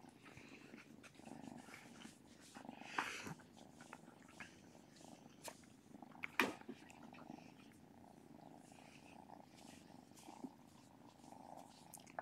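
A cat purrs softly and steadily at close range in a quiet room, with a few sharp clicks and small knocks over the low rumble.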